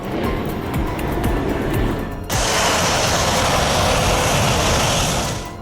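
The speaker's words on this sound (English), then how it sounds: "Nothing beats a carrier launch when those burners kick in full power." An FA-18 jet launches with afterburners from the aircraft carrier USS Nimitz: a loud, steady roar that suddenly surges into a fuller, harsher blast partway through and holds at full power.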